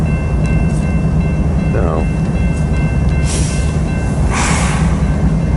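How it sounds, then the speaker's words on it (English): A freight train hauled by heritage-painted locomotives rolls past close by, with a loud, constant rumble and clatter of cars throughout, brief squeals and a few faint tonal hoots, and a short spoken word. "Yeah, really cool train."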